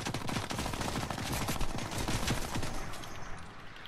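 A minigun in Fortnite Battle Royale fires in a long, continuous stream of rapid shots, loud and close, with no pause for several seconds before it tapers off slightly at the end.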